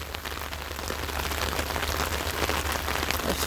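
Heavy rain pours down in a flood-prone street in Bath, Maine, a dense, steady hiss of drops hitting the surface close by, with no voices.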